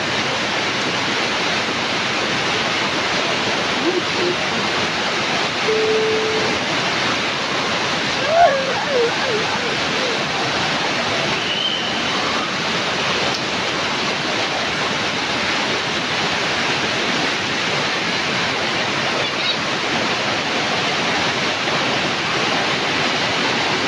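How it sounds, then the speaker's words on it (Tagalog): Heavy rain pours down in a dense, unbroken hiss that stays loud and even throughout, with no speech over it. "Grabe lakas ng ulan."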